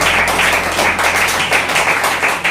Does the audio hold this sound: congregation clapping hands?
yes